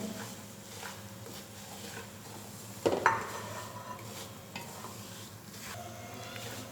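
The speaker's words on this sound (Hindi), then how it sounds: "सूजी को हम ब्राउन करते हैं।" Semolina being stirred and roasted on low heat, a soft, steady scraping and faint sizzle close by, with a sharper utensil knock against the pan near the middle.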